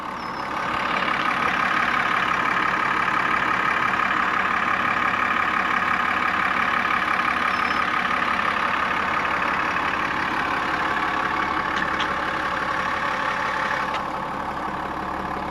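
A 2024 Chevy Silverado ZR2 with the 3.0 Duramax LZ0 diesel idles steadily, a continuous rumbling clatter at an even level, heard close and alone for about fifteen seconds before easing slightly at the end.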